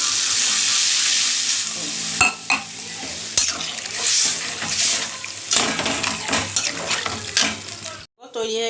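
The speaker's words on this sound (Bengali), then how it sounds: "মশলাটা ভাজা হয়ে গেছে, এবার আমি আদা ভাজি জলটা দিয়ে দিলাম, মিষ্টির জলটা।" Ginger water and sweet syrup splash onto fried spices in a pan for a vegetarian potato and giant taro dish, hissing into a loud sizzle while a utensil scrapes and stirs, then cutting off abruptly near the end.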